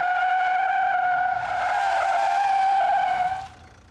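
Car tires squealing in a hard skid during a police accident reconstruction: a loud, sustained tonal screech lasting about three and a half seconds before cutting off abruptly.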